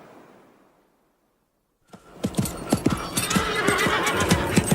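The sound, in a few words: horse galloping and neighing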